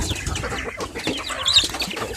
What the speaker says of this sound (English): That's the mama.